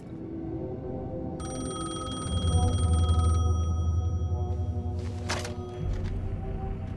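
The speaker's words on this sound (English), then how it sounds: "The payphone was ringing." A payphone rings in the Alan Wake video game: a steady electronic bell tone with bright harmonic tones over a low background hum, with a thump and brief noise bursts near the end and no voices.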